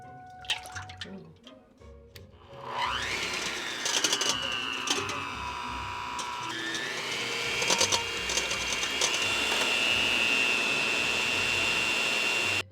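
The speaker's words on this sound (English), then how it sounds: "we're gonna start whipping our egg whites" An electric mixer or blender starts up after a few small clinks and whips egg whites for keto bread, a loud whining motor whose pitch rises and shifts while a bowl clatters.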